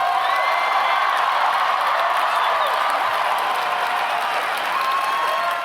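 A large crowd of Baptist listeners cheers and applauds for a speech by Cruz, a sustained roar of clapping with whoops mixed in, loud and steady throughout.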